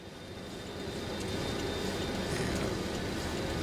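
Boeing 727-200 engines spooling up and roaring steadily louder as the airliner accelerates down the runway for takeoff in MSFS 2024, a broad continuous rumble with no talking.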